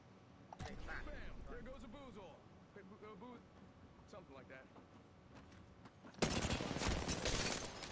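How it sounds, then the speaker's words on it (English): Video game gunfire pops in brief shots under a man's chatter, ending in a loud, dense burst of fire close by. "He has successfully shot at me."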